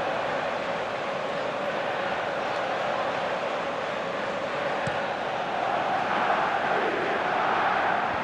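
Steady stadium crowd murmur and roar from the football video game Pro Evolution Soccer 2019, an Arsenal versus France match, holding a continuous broad wash of noise that swells slightly toward the end with no commentary over it.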